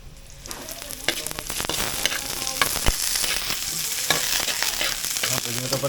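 Garlic and onion sauté in a hot pan for ginataang pusit, with a steady close sizzle broken by sharp scraping and clicking stirs of the utensil throughout.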